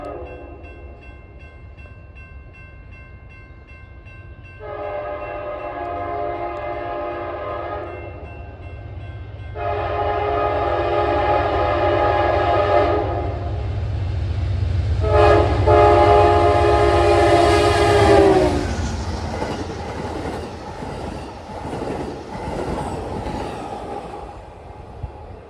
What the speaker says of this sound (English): you have these huge trains running through them